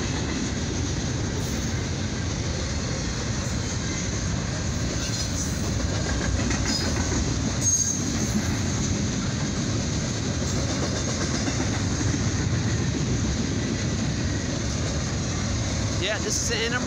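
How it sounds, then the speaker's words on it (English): A long westbound CSX intermodal stack freight train with rear DPUs rolls steadily past close by, with continuous rumbling, wheel clatter and metallic squeals. There are no breaks in the noise. "This is a stack train, or known as Intermodals."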